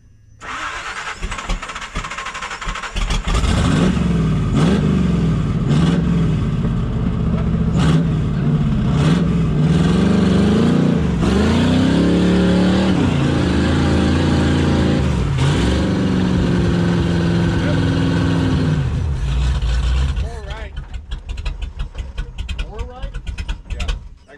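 An off-road vehicle engine revs and accelerates hard while climbing a hill trail, loud and close, with its pitch rising and falling for about fifteen seconds before easing off, and a voice can be heard briefly.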